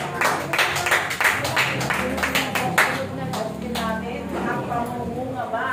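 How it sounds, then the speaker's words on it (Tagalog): A church congregation gives loud, sustained applause, the clapping dense and steady through the whole stretch while voices speak over it. "Malakas pa palakpak"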